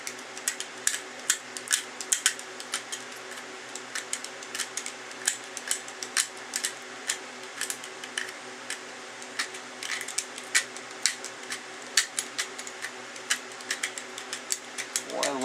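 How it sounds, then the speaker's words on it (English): A utility knife shaves fatwood into a pile, giving rapid repeated crisp scraping strokes up close, dozens of short bursts in an uneven rhythm over a quiet background. "Make a little pile of Fatwood shavings here."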